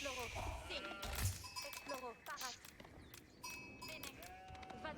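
Sheep in the strategy game Age of Empires 4 bleat repeatedly in wavering calls, several overlapping and close by, with soft game clatter underneath.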